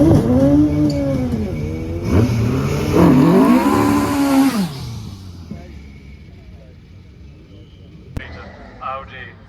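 A hill climb car with an Audi RS6 engine accelerating up the course at Shelsley Walsh, loud revs climbing and dropping through several gear changes, then fading into the distance, with people talking nearby.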